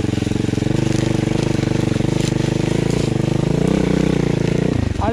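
Loncin enduro motorcycle engine running off-road, a steady loud close throbbing drone with a rising rev near the end, with someone talking over it.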